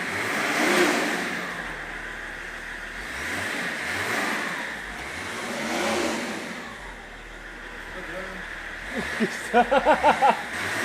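A BMW E60 car engine revs repeatedly in rising and falling swells, a flooded engine lacking power, with a quick series of short blips near the end, loud and close, with no talk over it.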